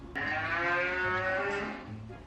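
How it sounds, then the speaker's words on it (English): A single long, loud cow moo, a deep drawn-out bovine call lasting about two seconds, played alone as a guess-the-sound prompt. "What was that? Cow."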